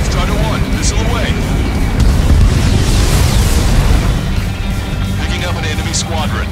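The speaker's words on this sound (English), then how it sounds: "Strider 1, missile away." A fighter jet's missile launch in the Ace Combat 7 combat flight game, a loud rushing whoosh and boom rising over constant engine roar and explosions, with radio voices talking.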